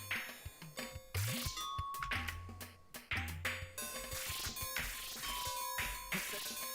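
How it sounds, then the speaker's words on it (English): Bright electronic dings ring out repeatedly amid clattering sound effects and thumps in an isometric arcade game run in MAME, a busy, rhythmic stream of chimes. "you're mostly hearing ding, ding, ding, ding, ding, like somebody's doorbell."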